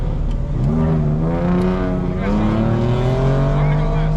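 A V6 Dodge engine revs and accelerates loudly, its pitch climbing steadily as it pulls away close by.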